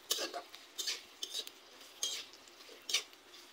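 Chopped green chili and onion are stirred in oil with a metal utensil that clinks and scrapes against the pan in about five distinct strokes. Each stroke is close, separated by brief pauses, and no one speaks.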